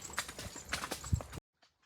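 A saddled mare being ridden out to a farm clip-clops with a few close, uneven hoof strikes on the ground, then everything falls quiet.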